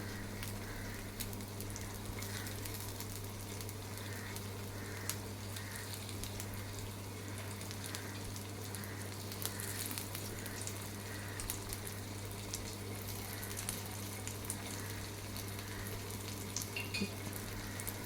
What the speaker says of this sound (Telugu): ఒక మూడు నిమిషాలు స్టవ్ లోలో ఉంచుకొని వేగించుకోవాలి